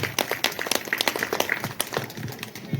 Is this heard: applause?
yes